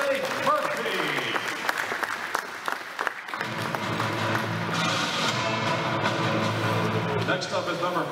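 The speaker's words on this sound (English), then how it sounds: "let's give a round of applause for number 32" A crowd at a high school senior night for the Palmyra Cougars ice hockey team applauds steadily for player number 32, with a voice and other sounds mixed in beneath the clapping.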